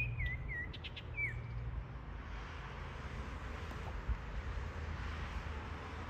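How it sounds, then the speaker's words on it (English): Birds chirp and tweet in short, bright bursts from a tall oak tree early on, then fade into a quiet outdoor hiss with a distant rumble. "the birds sound so pretty"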